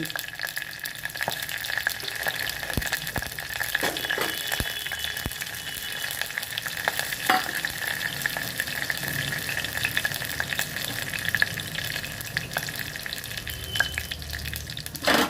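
Urad dal, cumin and mustard seeds frying in hot oil for eggplant pachi pulusu, a steady close crackling sizzle with scattered sharp pops and occasional stirring clinks, no talk.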